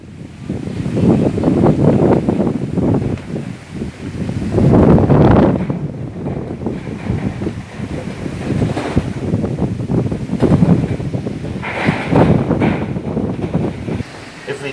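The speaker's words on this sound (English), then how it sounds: "you can see the wind blowing and you can hear the noise" Strong wind blows hard on a windy day near a hotel, buffeting the microphone in loud rushing gusts that rise and fall, with a roar like surf underneath.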